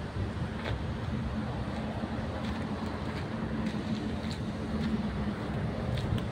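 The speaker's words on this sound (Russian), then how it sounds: "Трактор работает ровно, не дымит." An MTZ tractor engine idles evenly outdoors, a steady low diesel rumble with a constant drone and light wind noise, running alone without speech.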